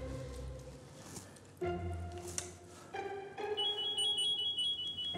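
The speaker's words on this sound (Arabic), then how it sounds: "الله ده التليفون بيرن." A phone rings with a repeated electronic tone, faint at first and growing louder and more insistent toward the end, with no voices over it.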